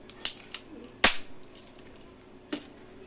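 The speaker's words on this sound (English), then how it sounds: "Turn and shoot, turn and shoot, turn and shoot." A toy police revolver cap gun fires several sharp cracking pops at uneven intervals, one much louder than the rest, close by and with no voice over it.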